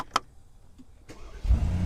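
Brabus G-Wagon, fitted with a switchable sound-boost exhaust, fired up by its start-stop button: a brief click, then a rising engine catch that settles into a loud, steady rumble near the end.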